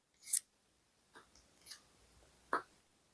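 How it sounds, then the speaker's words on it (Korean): Tarot cards being drawn from a deck: a few brief, crisp papery snaps and slides, spaced apart and fairly faint against a quiet background, with no voices. "그 사람의 현재 상황의 카드 뽑아보겠습니다."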